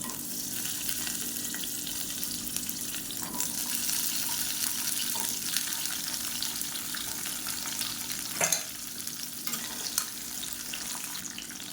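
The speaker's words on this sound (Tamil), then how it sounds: "இந்த முருங்கைக்காயை எண்ணெயில் போட்டு வதக்கிக்கலாம்" Cut pieces of moringa drumstick sauté in hot oil for a Tamil-style thokku side dish, giving a steady broadband sizzle with occasional stirring scrapes and a sharper clink near the end, with no talking.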